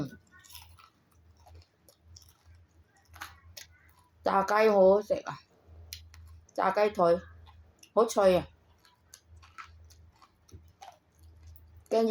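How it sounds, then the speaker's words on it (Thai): Crispy fried food made with Korean flour is chewed in quiet, rhythmic low crunches that run between several short bursts of a person talking. "ใช้แป้งของเกาหลี อืมกรอบเห็นไหม ได้ยินเสียงไหมล่ะ"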